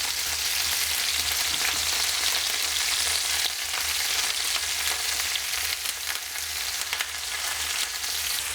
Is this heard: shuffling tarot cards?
no